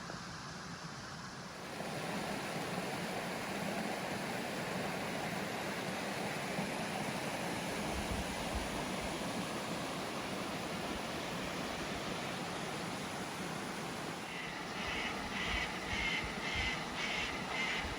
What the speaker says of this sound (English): Creek just keeps going down over more and more steps towards the main drop at Curtin Falls.